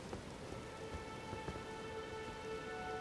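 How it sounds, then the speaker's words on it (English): Steady rain falls across an open landscape in the video game Elden Ring, a dense continuous patter with scattered closer drops and a faint low rumble beneath, with no voices. "It's raining!"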